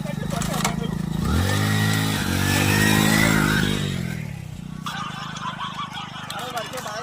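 A motorbike in a village lane roars past close by, its engine note rising and then falling away over a few seconds, with voices in the background.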